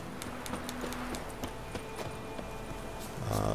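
Horse hooves clip-clopping at a run in The Witcher 3 on PC, a steady rhythmic series of thuds over game ambience, with a louder burst of sound at the very end.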